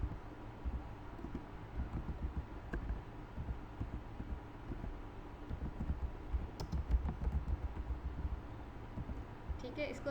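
Quiet typing on a computer keyboard while writing Python code, soft uneven clusters of key clicks heard beneath a person talking.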